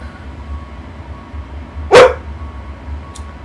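A single short dog bark cuts in over a steady low engine hum, fairly close and loud against the constant drone.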